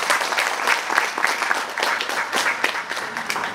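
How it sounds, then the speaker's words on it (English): A conference crowd at an agricultural investment event breaks into a moderate, continuous round of applause, dense overlapping claps at mid distance with no pause. "Let us give them a round of applause."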